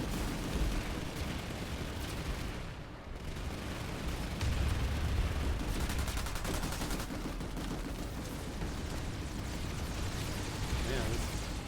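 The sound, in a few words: gunfire in video game Planetside 2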